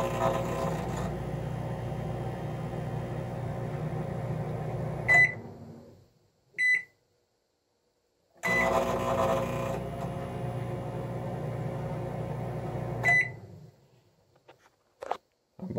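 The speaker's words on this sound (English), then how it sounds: "And plug the microwave back in." Microwave oven running on a DIY portable Nissan Leaf battery generator, a steady loud hum that cuts off, a few beeps and clicks, then the hum resumes before stopping again.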